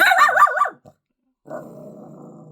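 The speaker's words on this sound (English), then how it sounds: "I've acquired a new doggy who is trying to guard the house." A dog growls and barks close by while guarding the house, a loud wavering growl-bark burst followed by a short pause and then a lower, steady rumbling growl.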